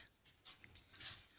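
A dog pants in quick, breathy bursts while running after its own tail, the rhythmic huffing faint and close with a soft hiss, alone without talk.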